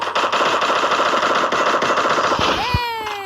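Rapid automatic gunfire in the Free Fire video game, a dense steady burst of shots for over two seconds, ending with a rising electronic tone and a final thud, loud and close.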